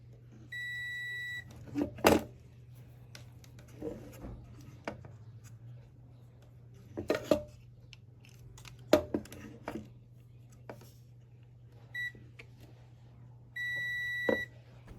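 A multimeter on continuity setting, probing the power circuit of a Soundcraft Signature 12 mixer, gives several short high beeps separated by quiet gaps and clicks of probes against components.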